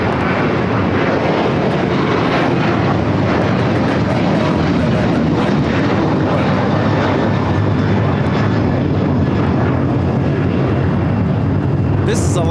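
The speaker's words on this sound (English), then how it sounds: "This is Alaska Airlines 1418 taking off to Guadalajara on the 737-800" Alaska Airlines Boeing 737-800 departing LAX for Guadalajara, its jet engines roaring loud and sustained throughout takeoff, filling the scene as a broad continuous rumble with faint hiss.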